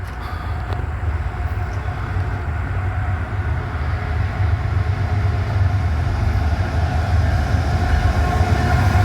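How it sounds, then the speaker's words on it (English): A tanker train, placarded and only lightly loaded, rolls past close by with a loud, continuous rumble of wheels on rail that grows slightly stronger toward the end. "Looks like it's gonna be a tanker train."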